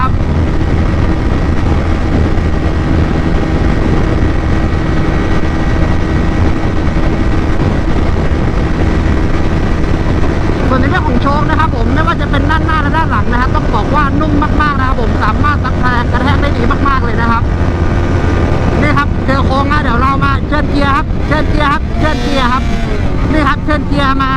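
A 2021 Honda CBR150R motorcycle engine drones steadily while riding at speed, loud and close with strong wind rush throughout, and someone talks over it during the second half.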